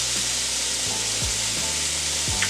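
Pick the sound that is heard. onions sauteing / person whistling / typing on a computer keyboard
onions sauteing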